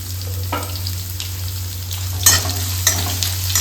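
Onion frying in a pan for crispy spicy leftover idli fry, giving a continuous close sizzle with a low steady hum beneath and a few sharp utensil scrapes and clicks, with no talking.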